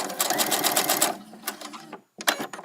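Sewing machine stitching a seam on a doll dress, a close, fast rattling run that slows, stops briefly, then starts again with a short burst.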